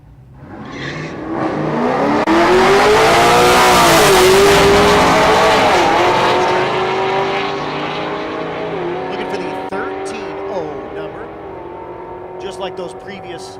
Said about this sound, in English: The 6th gen Camaro in the right lane.